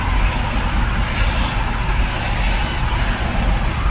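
Heavy road traffic of cars and trucks in Meycauayan churns as a dense, constant roar of engines and tires, close and loud throughout with no voices.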